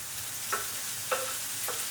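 Tofu frying in a pan for shrimp pad thai, a soft steady sizzle with a few light spatula scrapes and stirs, quiet and close.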